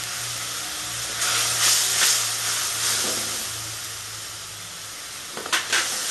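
Dried red chili dropped into hot oil for a Bengali rui fish curry sizzles and hisses in bursts, with a low steady hum beneath and a few clinks near the end.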